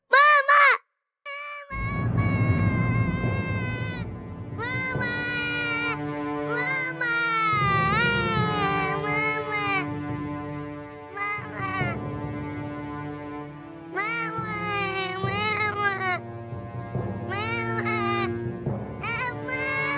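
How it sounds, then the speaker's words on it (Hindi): An unwell infant cries loudly and continuously in long wailing bursts with short breaths between, near and dominant, with other voices occasionally speaking in the background. "बच्चा रो रहा है"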